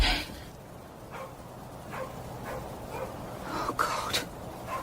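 Several dogs barking at a distance in short, separate bursts over a quiet background, faint and spaced out.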